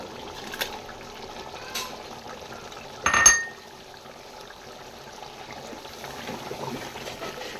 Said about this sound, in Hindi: ये डालेंगे जी इमली का पल्प